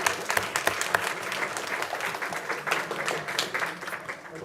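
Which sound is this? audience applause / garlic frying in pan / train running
audience applause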